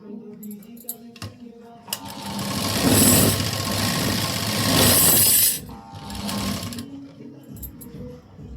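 Stitching a blouse, a sewing machine whirs in two close bursts, the first longer and the second briefer, separated by a short pause, with light handling noises before and after.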